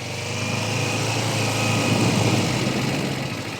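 A motorcycle engine idles steadily at close range during a riding test practice session, a loud, even low rumble with a slight swell in the middle and no speech.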